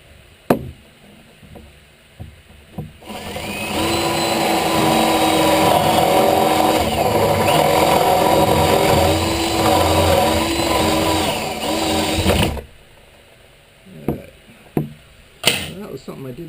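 A power drill boring a hole with a Forstner bit, a steady loud whirring grind lasting about nine seconds, framed by scattered knocks and handling clicks before and after.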